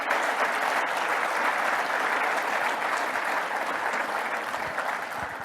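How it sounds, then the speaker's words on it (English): A large audience at the IT Nation Connect Europe 2025 keynote gives a sustained round of applause, a dense, even wash of clapping that holds steady throughout without voices. "Can we have a massive round of applause,"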